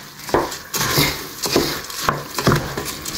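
A spoon stirs soaked masoor dal and rice in a pot over a high flame for khichdi, giving repeated scraping, clinking strokes against the metal at an uneven rhythm, close and fairly loud.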